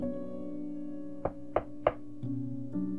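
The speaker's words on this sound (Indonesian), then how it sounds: "Terdengar suara Rico mengetuk pintu yang membuat Yosef ketakutan" Knocks on a door, three distinct raps close together over a steady sustained music bed, followed by shifting tones, with no speech.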